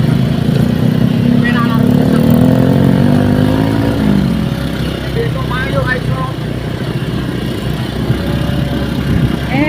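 A motorcycle engine hums steadily at close range on a road, its pitch rising and falling with the ride, while someone talks over it now and then.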